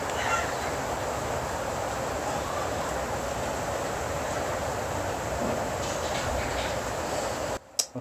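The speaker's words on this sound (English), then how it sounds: "It's raining right now" Steady rain falls outside, a dense, even wash of patter that continues unbroken for most of the stretch, with no talk, before stopping abruptly near the end with a couple of brief knocks.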